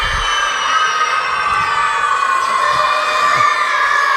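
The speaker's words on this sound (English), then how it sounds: "I got to hear more noise, more cheering." Crowd of children at a Boys & Girls Club gathering cheering and shouting together, a loud, sustained high-pitched roar of many voices that stays constant throughout.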